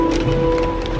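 Steady rain pelting a vehicle on a wet moving day, a dense continuous hiss of drops on the roof with low rumbling traffic underneath, close and fairly loud throughout.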